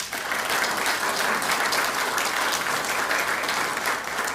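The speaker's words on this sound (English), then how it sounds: "let's give both these airmen a round of applause." A chamber of commerce audience at an event on Keesler Air Force Base claps for two airmen, producing dense, even applause that holds at a steady level throughout.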